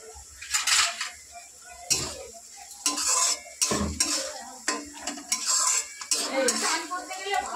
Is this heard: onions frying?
yes